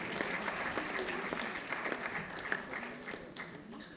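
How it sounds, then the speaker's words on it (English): An audience at a Council on Foreign Relations Ghana book launch applauds in a steady, moderately distant, even patter of clapping that lasts throughout and tapers slightly near the end. "A round of applause."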